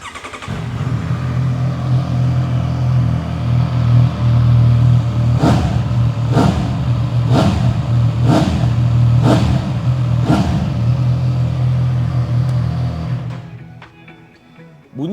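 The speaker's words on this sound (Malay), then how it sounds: "Bunyi exhaust standard dia bang, lagi sedap daripada dia punya kawan." A sportbike engine with stock exhaust idles with a steady low rumble, then is revved six times in an even rhythm, each blip sharp and loud, before cutting off.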